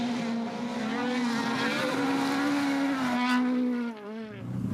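A Castrol Toyota Yaris S2000 rally car on a stage of the 2015 Polokwane Motor Rally, its engine droning loudly and steadily near at hand, pitch rising and falling, then a gear change near the end.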